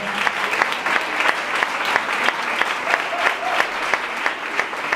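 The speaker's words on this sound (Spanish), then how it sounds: "Un aplauso, por favor." A crowd applauding steadily at a teachers' retirement event in Maracena, dense clapping throughout at a fairly loud, even level.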